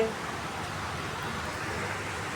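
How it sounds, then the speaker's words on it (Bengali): A dense, steady wash of heavy rain hisses continuously on a tin roof with no pauses, even and unbroken throughout. "ঝুম বৃষ্টি হইতেছে ঝুম বৃষ্টি"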